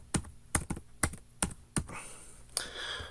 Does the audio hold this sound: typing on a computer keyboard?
yes